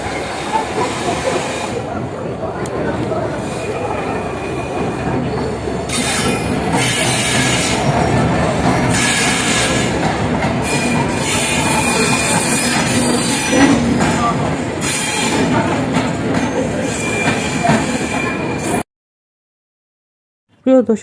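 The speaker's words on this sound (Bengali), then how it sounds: "আজকে চলে এসেছি বিমানবন্দর রেলওয়ে স্টেশনে বা এয়ারপোর্ট রেলওয়ে স্টেশন" Steady train rumble with hissing and faint wheel squeal at busy Dhaka Airport Railway Station, loud and continuous, ending in a brief silence.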